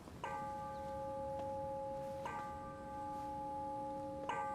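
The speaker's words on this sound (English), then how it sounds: "General Shen, the bell means it's time for stewards to be paid." A bell rings in a palace hall, three clear metallic strikes about two seconds apart, each leaving a sustained ringing tone that fades before the next, heard at moderate distance over quiet room tone.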